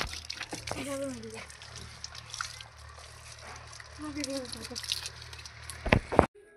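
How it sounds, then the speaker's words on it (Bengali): Children watering plants in a rooftop garden, with splashing, sloshing and trickling water close by, underneath children's voices and chatter. "আমরা গাছে জল দিচ্ছি"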